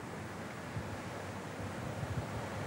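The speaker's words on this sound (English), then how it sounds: "Need to allow a bit for the wind." Steady wind at an outdoor clay shooting ground buffets the microphone, producing a continuous low rumble and roar with small gusts. Moderately loud and close, with no voices.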